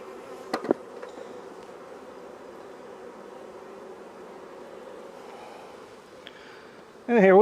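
Honeybees hum steadily around a hive entrance, a continuous droning buzz with a few clicks early on and a sudden loud burst at the end.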